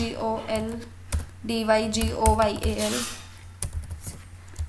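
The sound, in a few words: typing an email address on a computer keyboard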